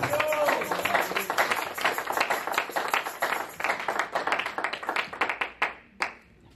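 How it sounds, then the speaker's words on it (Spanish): A church congregation claps together in a lively, uneven burst of applause, loud and close at first, then thinning to scattered claps and fading out near the end. "Dele un aplauso a Cristo."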